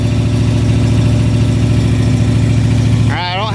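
A Ford Mustang Foxbody with a 90-style Lx setup and Terminator X fuel injection idles loudly and roughly on its first start, a steady low rumble with rhythmic pulses, close by, with a voice speaking over the end.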